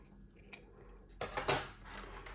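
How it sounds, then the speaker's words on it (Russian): A few crisp snips of scissors cutting through paper, close and fairly quiet, with a short pause before the main cuts. "Беру ножницы и отрезаю."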